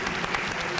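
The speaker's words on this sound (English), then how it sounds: "So why don't we all applaud?" Steady applause from a crowd at an FC Barcelona vs Atalanta Champions League football match, a dense even wash of clapping filling the short moment without pauses.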